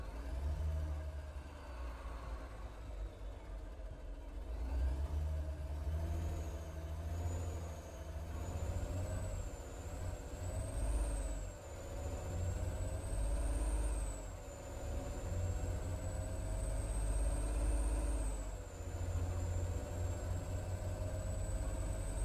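Heavy truck driving in the video game Alaskan Truck Simulator: a low steady diesel drone with a rising and falling whine over it, continuous and moderately quiet.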